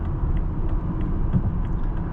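A 2017 BMW G12 750i driving, a low steady engine rumble with road noise underneath, smooth and continuous from inside the cabin with no talking.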